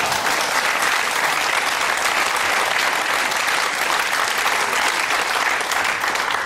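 Sustained audience applause at a German political cabaret show, dense and steady clapping filling the whole stretch at close, loud level with no talk over it.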